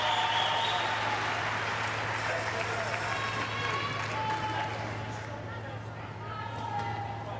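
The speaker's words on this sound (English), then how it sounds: "listen to the crowd here" Badminton arena crowd at the 2022 mixed team event cheering and applauding loudly and steadily throughout, a dense roar of voices and clapping with commentators talking over it.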